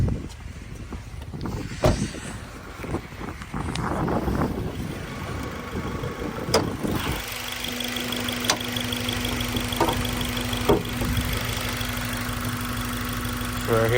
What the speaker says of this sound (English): So right here you got the EP3 SI engine.